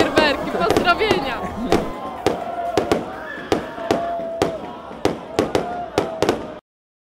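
Fireworks crack and bang repeatedly, sharp pops at an irregular rhythm, with a crowd and voices chattering underneath throughout, at a New Year's party in Łeba.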